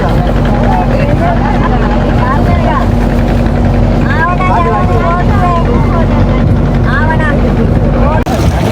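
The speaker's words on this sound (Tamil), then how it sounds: "அதில் பார்த்தீங்கன்னா தெரியும் அடுத்த போட் போகுது." A passenger boat's engine drones steadily and loudly on the water near Jaffna, a constant low rumble that continues under someone talking throughout.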